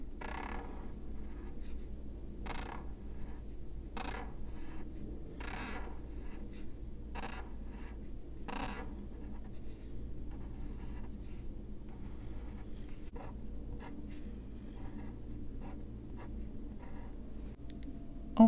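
Recollections Masterpiece brush pen markers letter on paper, giving soft, scratchy nib strokes in irregular bursts with short pauses between them against a low steady hum.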